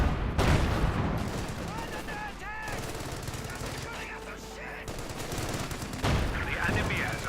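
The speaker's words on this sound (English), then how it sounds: "Rifle grenade there." Company of Heroes 2 battle audio: dense gunfire and explosive blasts, including a rifle grenade, crackle over a steady wash of combat noise, with louder volleys near the start and end.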